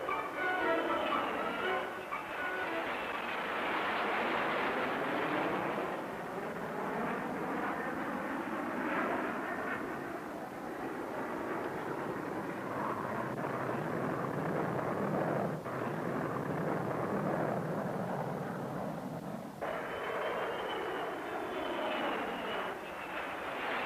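Air Force Thunderbirds jets, T-38s and F-102s, roar past at an air show open house, a loud sweeping engine rumble that rises and falls in long passes.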